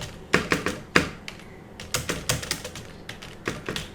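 Keys on a computer keyboard clatter up close in uneven bursts of quick taps, with short pauses between clusters of keystrokes, while text is typed into a desktop publishing program.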